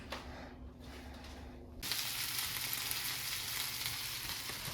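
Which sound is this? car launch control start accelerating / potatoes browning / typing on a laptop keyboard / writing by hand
potatoes browning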